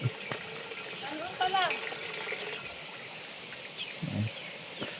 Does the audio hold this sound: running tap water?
yes